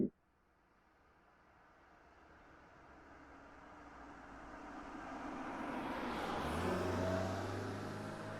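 A Subaru car pulls away, its engine rumble swelling from faint to loud over several seconds as it gathers speed, with a rising whine near the end.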